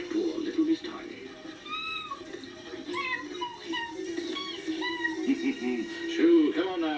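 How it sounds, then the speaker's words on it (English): A cartoon cat meows repeatedly in a VHS animated story, its rising and falling calls mixed with a narrator's voice and soft background music. "So, come on now, go away, cat."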